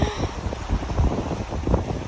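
Strong cold wind buffets the microphone in gusts, a loud rumbling roar that swells and eases repeatedly with no voices over it.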